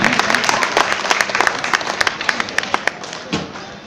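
Applause at a Dr. Babasaheb Ambedkar Jayanti gathering in Kalyan, a crowd clapping steadily for about four seconds with sharp individual claps standing out, thinning slightly toward the end.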